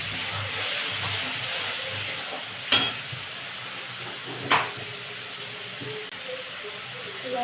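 A spice paste with ground coriander and water, cooked down in a pan for a potol mince curry, gives a constant soft sizzle and hiss, broken by two brief sharp scrapes of a spoon, with no talking.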